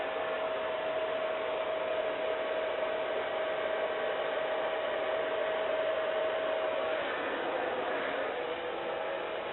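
A hair dryer blows steadily while styling hair, a constant loud rushing hum with a faint tonal whine that runs without pause throughout.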